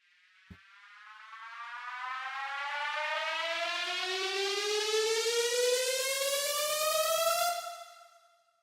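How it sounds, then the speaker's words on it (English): Music-production build-up riser effect: a single synthetic tone sweeping steadily upward over about seven seconds, growing loud and bright before cutting off abruptly, with a brief click at the start. "the build sound that I played before is reversed, I think"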